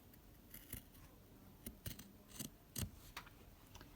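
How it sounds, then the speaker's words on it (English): Quiet, crisp snips of scissors cutting through quilt binding fabric, a series of short irregular clicks up close with no voices. "just trim across that blue line with your scissors"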